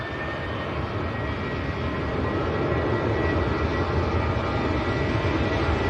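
A Ryanair Boeing 737-800 at Manchester Airport gives off a steady, broadband engine roar that holds loud and constant throughout, with no voices.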